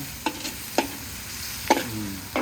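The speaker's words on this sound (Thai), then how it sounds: "ใส่กระเทียม ผัดมะอึครับผม นี่ก็จะผัดมะอึ" Garlic and ma-ue fruit stir-fried in a pan over a charcoal stove, with a low sizzle beneath a few sharp, evenly spaced scrapes and knocks of a spatula against the pan.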